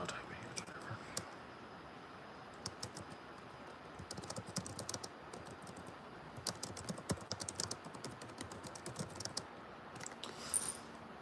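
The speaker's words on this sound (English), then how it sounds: "Yeah, I'll type it here." Rapid keystrokes on a computer keyboard, close and crisp, come in irregular bursts with brief pauses.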